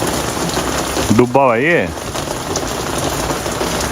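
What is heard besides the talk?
rain falling on balcony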